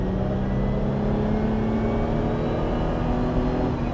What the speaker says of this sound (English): oh my days, that V6 sounds good